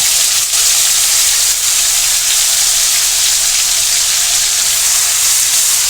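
Cumin seeds crackle and sizzle in hot oil in a pan, a steady dense hiss with fine popping that runs unbroken and close throughout, no voices.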